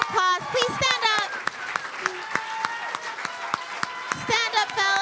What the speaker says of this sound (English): Let's give our fellows one more round of applause.